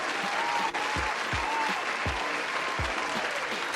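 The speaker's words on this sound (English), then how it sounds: "It gotta get a round of applause," A crowd applause sound effect plays as a loud, steady wash of clapping, with low rhythmic thumps pulsing underneath about every half second.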